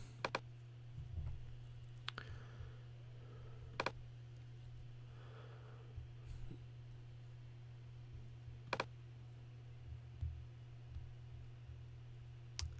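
Sparse, faint computer mouse clicks while saving a WordPress menu, a few sharp isolated taps spread out over a low constant hum.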